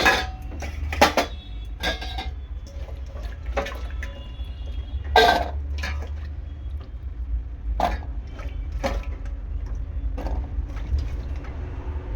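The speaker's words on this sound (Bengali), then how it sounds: "আলুটা ধুয়ে নেব, একটা পাত্রের মধ্যে তুলে নেব।" Chopped potatoes are rinsed in water in a kitchen, giving scattered splashes, drips and clinks of a pot in a loose, uneven rhythm over a low steady background hum, close by with no talking.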